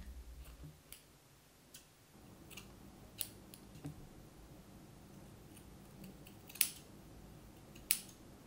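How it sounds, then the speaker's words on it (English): Scissors snip through curly hair in a home haircut, giving faint, crisp clicks spaced irregularly over a quiet background, with two louder snips near the end. "take your scissors and cut on top of your fingers"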